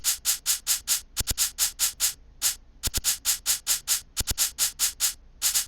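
Stuttering shaker loop from a hip-hop beat, playing alone as crisp, even rhythmic shakes in repeating bars, broken by quick stuttered double hits around each phrase turn.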